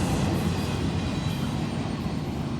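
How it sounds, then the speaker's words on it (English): A heavy, continuous low rumble of a short BNSF double-stack freight train with two locomotives rolling past at steady volume, with no gaps or voices. "that is a short stack train with 2 locomotives."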